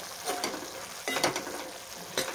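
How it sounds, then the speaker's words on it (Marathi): Steamed cauliflower is stir-fried in a pan for a dry vegetable dish, with a spatula scraping and tossing in short strokes over a soft, steady sizzle, close and fairly quiet. "आता आपण आता परतून घेऊया."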